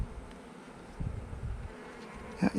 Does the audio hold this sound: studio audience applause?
no